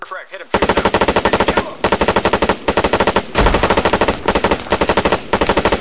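In the Arma 3 combat game, a machine gun fires long rapid bursts, loud and close, in repeated rattling strings separated by brief pauses.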